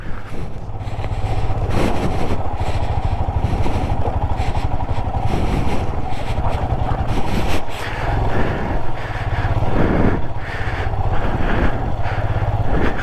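A vehicle rumbles loudly and continuously through a water crossing on a rough mountain road in Ladakh, the engine drone steady throughout, mixed with splashing and jolting noise.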